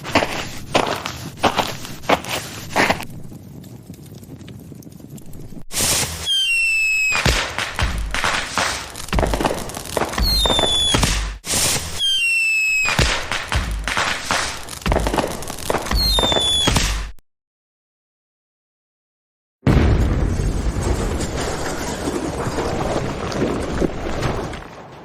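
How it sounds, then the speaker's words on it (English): Fireworks set off at a school go off in repeated bursts of loud bangs and crackles, some with rising whistles, broken by a few seconds of silence before a final noisy stretch. "why did you blow up your school with fireworks?"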